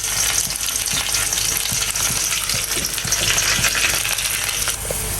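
Onions with green chilies sizzle in a pan for a prawn and Malabar spinach curry. The frying is steady and loud, with scraping stir strokes and small clinks throughout and no voices.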